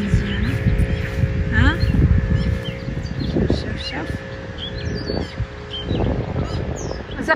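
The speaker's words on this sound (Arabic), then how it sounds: "زقزقات العصافير" Small birds chirp and tweet outdoors in green countryside in Virginia, scattered calls sounding near and far over a steady background hum, with a voice-like murmur faintly mixed in.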